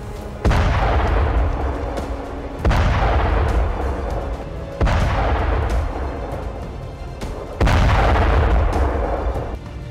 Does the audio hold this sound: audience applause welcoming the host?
no